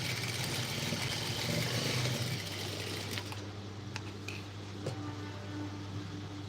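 An electric sewing machine stitches a seam on a blouse with a steady, close, fast mechanical whir for about two seconds, then slows to quieter hum and a few scattered clicks and taps.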